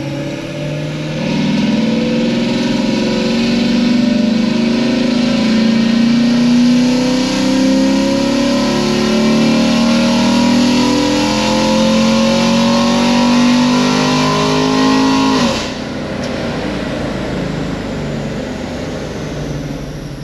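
An LT1 V8 car engine without open exhaust revs loud and close, holding a rising, strained drone for about fifteen seconds before dropping off sharply to a lower idle.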